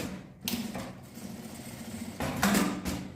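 Sewing machine stitching a seam to close a small fabric piece, a soft rapid mechanical whir in short bursts, near and fairly quiet, with brief pauses between runs.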